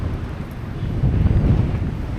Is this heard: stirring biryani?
no